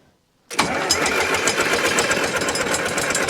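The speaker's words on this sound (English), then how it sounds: "I'm gonna try cranking it." A John Deere 3020 diesel tractor engine that had sat unused for over ten years cranks over after a short silence. The starter churns loud and steady with a rough, rhythmic low chugging, and it never catches.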